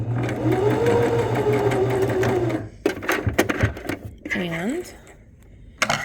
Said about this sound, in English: all I'm doing is sewing a straight stitch